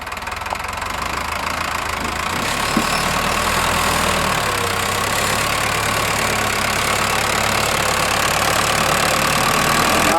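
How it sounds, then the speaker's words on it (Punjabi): A tractor engine idles steadily, a continuous broad rumble with a faint knocking texture running unchanged for about ten seconds, loud and close with no talking. "ਇਹ ਬੇਰੀ ਵਾਲਾ ਦਾ ਟਰੈਕਟਰ ਆ ਜੀ"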